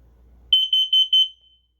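A combination smoke and carbon monoxide alarm sounds during an inspection, emitting five sharp, loud high-pitched beeps in quick succession, close by with no talk.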